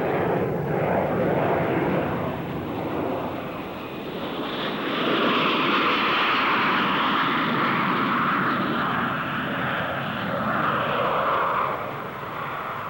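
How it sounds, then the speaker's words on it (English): A Blackburn Buccaneer naval strike jet flies past at the Farnborough air show, giving a loud, sustained engine roar that swells and shifts in pitch over about thirteen seconds, heard alone without talk. "The Buccaneer, a low-level naval strike aircraft designed to operate below radar cover."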